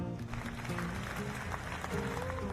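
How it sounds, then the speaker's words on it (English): Audience applause greets three contestants at a baking competition, a steady patter of claps running for the full stretch beneath louder tonal music. "Let's give them a round of applause."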